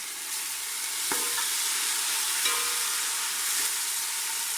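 A steady soft sizzle of tomato paste frying in a pan with lightly browned garlic, with a few faint clinks of a spoon stirring.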